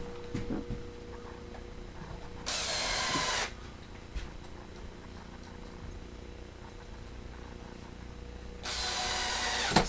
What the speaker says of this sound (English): I'll put in two screws